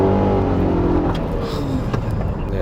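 A Nissan X-Trail petrol engine pulls steadily under acceleration, a continuous loud low drone with rising harmonics heard from inside the cabin, no voices.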